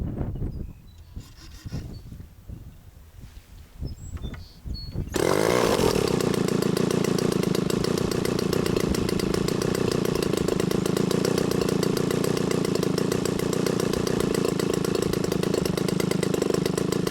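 A DA60 gas engine with RCExel ignition gets a few short cranking pulls and scraping handling noises, then fires up and runs at a loud, steady, buzzing drone until the end.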